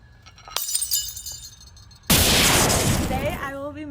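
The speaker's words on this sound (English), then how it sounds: "So for my physical change, I will be breaking glass" Glass breaks for a physical-change science project, with a sharp crash then a loud, sustained shattering spray of fragments, close and alone.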